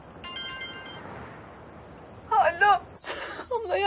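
A mobile phone rings with a short electronic tone early on, followed by a voice speaking in a tense, emotional way.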